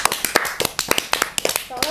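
Hands clap in a quick, uneven series of sharp, close claps, about a dozen in two seconds, with a voice speaking at the end.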